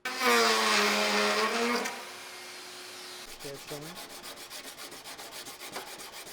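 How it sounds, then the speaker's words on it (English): A loud motorized whir runs for a couple of seconds, then stops, giving way to fast, rhythmic scraping strokes close by as a part for a full-size C63 Black Series sedan build is shaved down. "As you can see, lots of shaving down."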